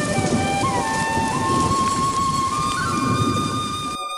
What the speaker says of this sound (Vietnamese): Quay trên mạng thấy nắng đẹp lắm mà sao tới đây mưa dữ vậy trời.